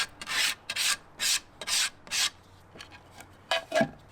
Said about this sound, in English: Alright, so I have one of these little sanding blocks.